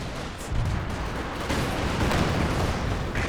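Artillery barrage and small-arms gunfire in a 4v4 Company of Heroes 2 match, Soviet conscripts against German grenadiers, a dense continuous rumble of blasts and shots at steady loudness with no talk.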